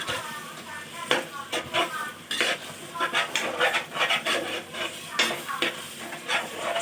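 A spoon scrapes and clanks against a metal pot while chicken biryani masala mixed with curd is stirred, giving irregular close bursts of wet scraping and knocks, with a voice talking between strokes.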